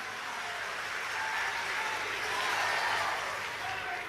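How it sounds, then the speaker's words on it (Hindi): A large audience at a religious gathering claps in sustained applause, a dense, even wash of clapping that swells slightly and carries on without pause. "जोरदार ताली बजा करके धन्यवाद दीजिएगा"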